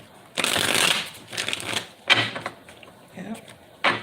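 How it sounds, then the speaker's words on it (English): A deck of tarot cards is shuffled close by, with a long riffling burst followed by shorter flicks and taps of cards being squared and cut, fairly quiet indoors. "I'm going to shuffle the deck."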